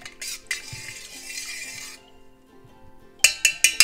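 A spoon stirs black pepper and roasted cumin powder into a strained drumstick soup, with soft scraping in a pot, a short quiet stretch, then several sharp metallic clinks against the rim near the end.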